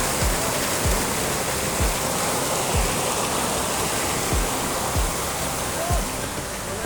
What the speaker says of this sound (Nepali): खोला चाहिँ हेर्न सक्नुहुन्छ